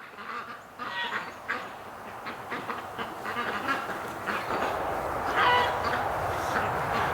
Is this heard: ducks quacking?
yes